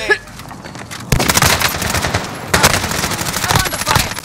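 Rapid automatic gunfire in a battle royale video game, long dense bursts of loud close shots that break off briefly and then resume, with faint in-game voice chatter underneath.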